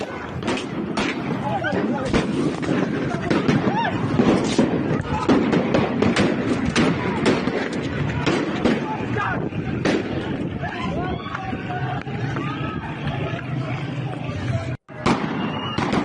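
Sharp cracks of gunfire aimed at protesters burst out again and again over a loud, chaotic crowd, with shouting and commotion throughout.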